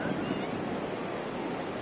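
Surf rolls in steadily at Kelva beach, a broad continuous wash of waves mixed with wind buffeting the microphone, with no clear voices.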